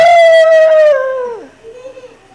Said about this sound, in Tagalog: Singgit ang wolf, singgit ang hyena.